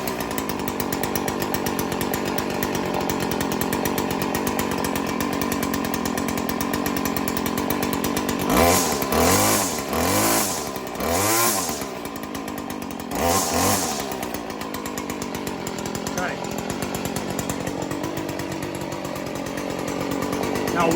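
A Stihl FS 40C weed eater's small two-stroke engine runs at a steady buzzing idle, then revs up sharply several times in rising and falling bursts before settling back, close and loud.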